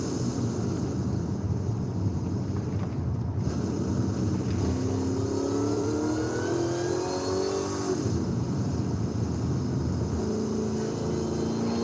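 Cars in Forza Horizon 5 cruise and rev at night, a steady engine drone with rising and falling revs as gears climb, continuous and fairly close throughout.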